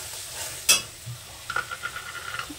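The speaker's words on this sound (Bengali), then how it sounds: "আবার একটু নাড়াচাড়া দিয়ে নেব।" A spoon stirs peas and paneer curry in a pan, with a few soft scraping strokes and light clinks in a quiet kitchen and a faint sizzle underneath.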